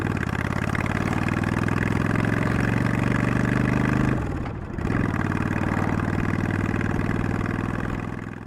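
Motorcycle engine idling loudly through high-low drag pipes fitted with 8-inch baffles, a steady deep throbbing exhaust that dips briefly in the middle before settling back to a constant rumble.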